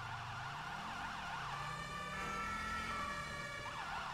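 At an accident scene, an emergency vehicle siren cycles in a fast, warbling up-and-down pattern, loud and continuous over a low engine rumble.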